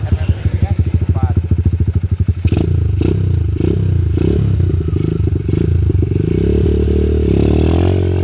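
A motorcycle with an MBRtech A1CDI-R quickshifter module idles with a steady, loud pulsing beat, then revs hard into a rough, clattering roar with sharp bursts, close by.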